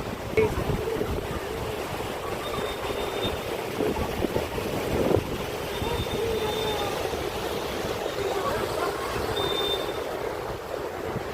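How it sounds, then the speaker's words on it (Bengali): Steady wind and surf roar across the open shore at Bandra beach in Mumbai, with the sea heard from a distance and a continuous rumbling wash of wind noise throughout. "জাস্ট দূর থেকে মানে সমুদ্রের ঢেউটা দেখে দিই।"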